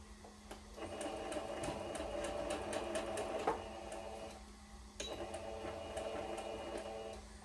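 A sewing machine stitches a quilt block in two sustained runs of fast rhythmic clatter, close and fairly loud, separated by a brief pause.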